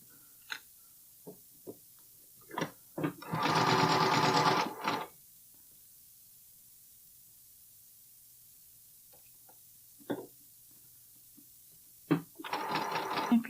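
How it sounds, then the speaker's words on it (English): A sewing machine stitches the seams of a Cashmerette Loftus bralette in two loud, steady whirring bursts, separated by small clicks and handling knocks. "If your machine seems to be puckering your fabric, you can even give your seam a slight pull as you're sewing it."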